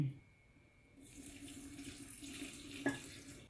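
Tap water runs steadily into a sink over mustard greens being prepared for Filipino-style pickling, a continuous close splashing rush with a brief louder splash near the end.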